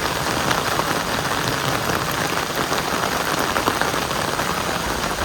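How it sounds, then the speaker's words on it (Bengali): Steady moderate rain falling on surfaces during a rainy-season outing near a village fair, a continuous even hiss of drops filling the whole stretch with no voices. "বৃষ্টিটা খুবই সুন্দর হইতেছে, মানে এক মাপের বৃষ্টি।"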